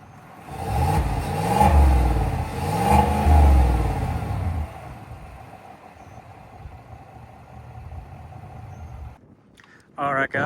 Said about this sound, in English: I'll throw in an exhaust clip here for you guys.